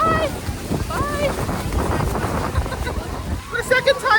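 Wind buffets the microphone at Niagara Falls, a low rumbling roar that runs under close talking by a woman in a poncho.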